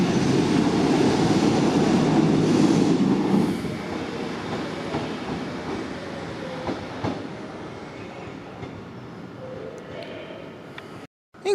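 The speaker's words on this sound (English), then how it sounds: "now is the northern service to Colne" A Northern passenger train bound for Colne, formed by a class 150 unit, rumbles loudly through Preston station and then fades into a lower rolling drone with faint wheel clicks. A voice speaks over the noise.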